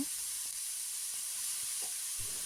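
Shredded cabbage frying in a pan for badhakopi bhaji, a soft steady sizzle and hiss heard up close and fairly quiet, with a few light taps from the pan and no voices.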